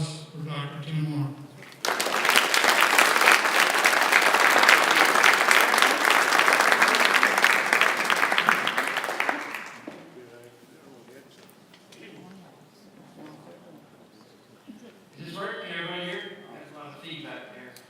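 A lecture audience breaks into loud, sustained clapping for a doctor introduced as the evening's speaker. The applause runs for about eight seconds, then fades, and talk follows before and after.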